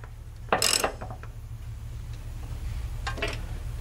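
Ratchet tightening bolts on steel rock sliders on a Land Rover Discovery Series II, two short bursts of rapid metallic clicking a few seconds apart over a steady low hum.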